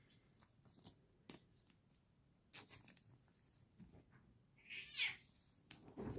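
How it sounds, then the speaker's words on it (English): Cats fighting in another room of a home, heard as a brief burst of high yowling and hissing around the middle of the clip, faint and distant, among soft scattered knocks and rustles with no talk. "My cats are fighting in the other room."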